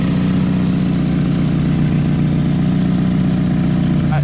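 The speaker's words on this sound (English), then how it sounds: "It's really annoying that it has an exhaust leak like right after I got it" A Nissan Silvia S15 idles steadily at close range, a loud low rumble with a ticking, puffing exhaust leak near the manifold, constant throughout with no talk.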